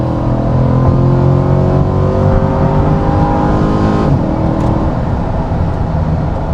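A C8 Corvette sports car engine accelerating with a loud, continuous, close-up roar, its tone climbing steadily before a brief shift near the end. No one speaks.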